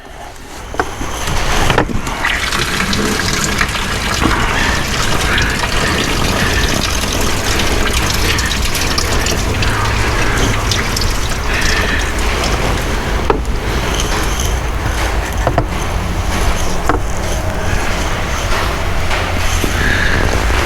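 Coolant gushing out of disconnected engine lines on a 2018 Ford F150 3.5, a loud, steady rushing splash of liquid that starts abruptly and pours continuously for the full length, close by with no talking.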